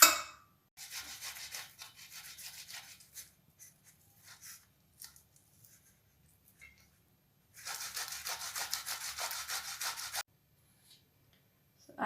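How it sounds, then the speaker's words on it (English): Potatoes are rubbed against a grater for parathas in bursts of brisk, rhythmic rasping strokes, one longer run early on and another after a quiet pause with a few scattered scrapes, close and fairly soft. "I'm going to grate the potatoes first."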